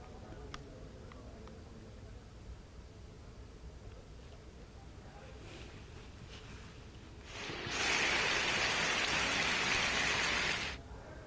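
Heavy monsoon rain in Mumbai hisses steadily, then a much louder, denser downpour surges in for a few seconds before dropping back.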